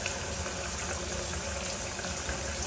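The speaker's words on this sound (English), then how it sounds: "Let that water flow straight down." Water runs steadily down a shower drain in a Brooklyn bathroom, a continuous close hiss and splash of flowing water with no pauses, heard alone.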